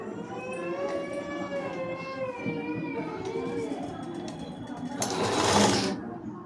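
A sewing machine stitches a long frock, a steady close whirring with a rising and falling motor pitch, under a voice explaining, before a brief louder rustle of fabric near the end.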